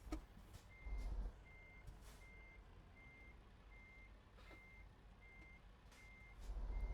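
A truck in American Truck Simulator reverses, its backup alarm beeping in an even, regular rhythm over a low engine rumble that swells at the start and end.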